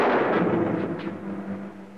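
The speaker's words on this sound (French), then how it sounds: "On a entendu un coup de feu." A single gunshot in a 1940 western, a heavy muffled boom at the start that decays into a long rumbling echo, heard alone with no voices.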